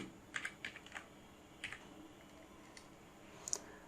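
Computer keyboard typing HTML list items: short clusters of light key clicks in quick bursts with pauses between, close and fairly faint, no voices.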